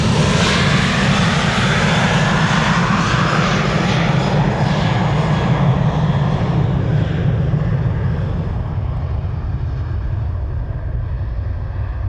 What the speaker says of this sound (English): Allowing to go ahead of the Delta A330 that is lining up behind it.